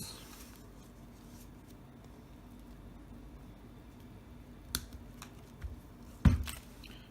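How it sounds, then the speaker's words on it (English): Hand cutters snip through a strand of 3D-printed padlock filament in a quiet room, with two sharp clicks, the second one louder, against a faint background hum. "Let's cut it with the cutters."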